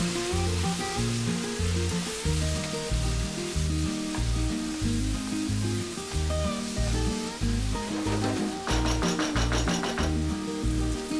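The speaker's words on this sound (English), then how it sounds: "fry the masalas for about 5 minutes" Masalas with red chilli powder and coriander powder frying in a pan for beef bhuna gosht: a steady, soft, continuous sizzle with occasional stirring, set under rhythmic background music.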